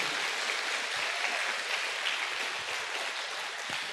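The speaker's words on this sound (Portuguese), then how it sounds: "Dê uma forte salva de palmas para o Senhor Jesus" A church congregation gives a strong round of applause, a steady, even wash of many hands clapping with no talk over it.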